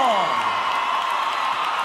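Cuarteto fans at the Festival Internacional de Peñas cheer and applaud in a steady, dense crowd roar, with a loud announcer shouting over the top.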